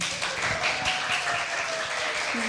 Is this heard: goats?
no